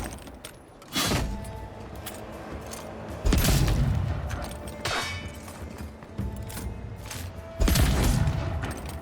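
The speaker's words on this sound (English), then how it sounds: "Just gonna casually shoot all the spiders" Bursts of gunfire in the video game Avowed as spiders are shot, several loud close blasts spaced a second or two apart, each with a booming decay, over a continuous rumbling game background.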